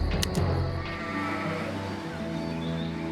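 A goat bleats in the video game Empire Earth: one loud, close bleat right at the start, then sustained tonal background sounds that fade out.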